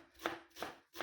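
Knife chopping cabbage on a board for fried cabbage pies, three crisp, evenly spaced chops close by with no talk.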